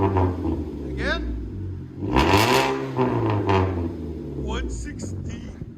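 A 2016 Ford Fusion SE with a four-cylinder engine and a Cherry Bomb glass pack exhaust revs up and settles in bursts, its raspy exhaust note rising and falling while people talk nearby.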